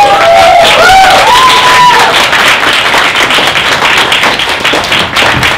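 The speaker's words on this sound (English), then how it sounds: "We should give a round of applause for all of my classmates again" Audience applause for a group of classmates at a poetry performance event, loud dense clapping filling the whole stretch, with a few cheering whoops near the start.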